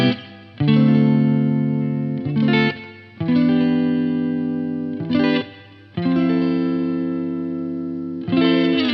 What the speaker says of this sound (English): playing through this Blackstar with the controls set for a clean tone with a little reverb, here is the neck pickup position